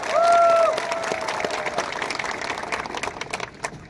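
A crowd claps at a Tipra Motha political rally in Sabroom, a burst of dense applause that is loudest at the start and then thins into scattered clapping over crowd noise.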